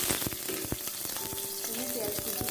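Green chilies and chopped onion hit hot oil already holding fried dried chili and bay leaf, for a pumpkin vegetable dish, giving a close, steady crackling sizzle broken by sharp stirring pops.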